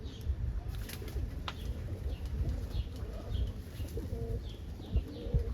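Homer pigeons at bath time, including a young recessive red hen, giving soft repeated coos and chirps over a low rumbling background, with faint wing flaps and splashy noise close by.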